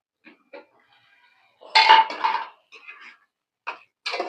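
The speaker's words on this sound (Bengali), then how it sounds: "আমি এখন ঢাকা দিয়ে দিই" A lid is set on a metal cooking pot while liver cooks with soybeans and potatoes: a few light clinks, then a louder metallic clatter and scrape, followed by scattered soft knocks, close up with no talking.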